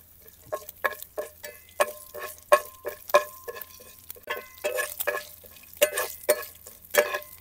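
Mustard seeds, cumin and chana dal spluttering in hot cow ghee as tempering, a close run of sharp crackling pops and sizzles in an irregular rhythm, with no talking.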